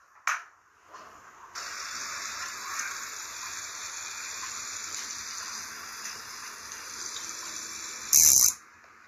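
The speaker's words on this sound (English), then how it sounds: "the water collected from the AWG is sprayed on the field" Water collected from an atmospheric water generator is sprayed onto a sandy field by a motor-driven irrigation setup, giving a steady, even hiss of spray that runs for several seconds alone before a brief louder burst near the end.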